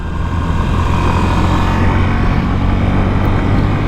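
Honda CB125F motorcycle leaning through a bend, its small single-cylinder engine droning steadily and loud, mixed with heavy wind rush, no talking.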